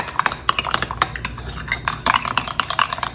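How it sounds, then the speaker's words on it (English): Light brown sugar and ketchup being mixed in a bowl for a meatloaf topping, heard as quick, close, irregular clinks and taps of a utensil against the bowl, continuing throughout. "And we are just going to mix these two together with the ketchup."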